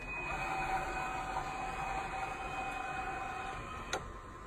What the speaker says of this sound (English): Wheel disappears